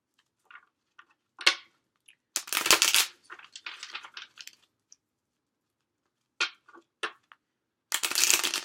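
Tarot cards being shuffled with crisp riffling bursts and soft papery shuffles, separated by quiet gaps, close up.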